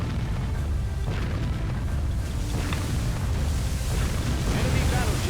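Enemy battleship exploding and sinking in Warship Gunner 2, a continuous heavy roar of blast and churning water that stays loud and dense throughout, with no clear separate impacts.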